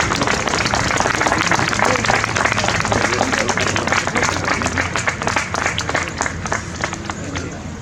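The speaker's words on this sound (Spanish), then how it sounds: "Un aplauso para César, que siempre estará en nuestros corazones." An audience at a tribute gathering in Cáceres applauds steadily and loudly for the whole stretch, dense clapping that thins slightly toward the end.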